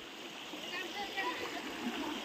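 A small village stream in the Konkan countryside flows quietly, a soft, even rush of running water with faint splashing throughout.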